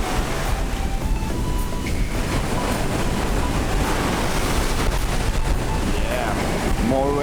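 Ocean surf rolls onto Dahican beach in a continuous, loud wash of broadband noise with no clear breaks, roaring steadily throughout.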